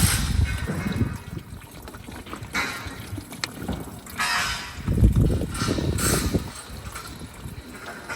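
Water poured through the washer jet pump housing of a BMW X3 E83, an uneven splashing gush that swells and fades in several bursts, close by and moderately loud.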